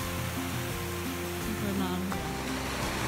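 A mountain stream rushes along a Tatra valley floor in Zakopane, a steady broadband wash of flowing water with faint voices murmuring underneath.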